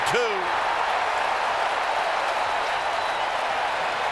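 A baseball stadium crowd at a Giants vs Phillies game roars steadily throughout, a dense, loud, sustained wash of cheering with a brief sharp call near the start.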